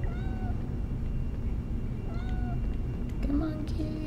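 A cat meows several times, each call short and rising, fairly close, over a steady low background rumble; no talking.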